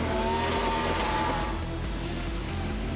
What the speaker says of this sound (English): That unique exhaust note coming courtesy of a Hartley Racing Engines 1GZ Toyota 5-litre V12.